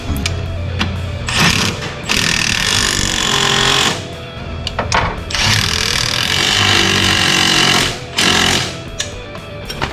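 A power tool tightens coilover shock bolts on an 87-96 Dodge Dakota in loud, rattling bursts of a few seconds each, broken by short pauses, close up with no talking.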